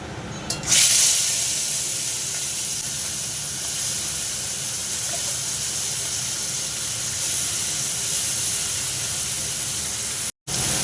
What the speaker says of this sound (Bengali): তেলটা আমার গরম হয়ে গেছে, দিয়ে দেবো চিংড়ি মাছগুলো। চিংড়ি মাছগুলো একটু ভেজে নেব।